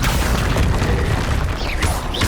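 A Confringo blasting spell explodes in Hogwarts Legacy, a loud, heavy boom with a rumbling low end and whooshing magical swirls near the end, close and without talking.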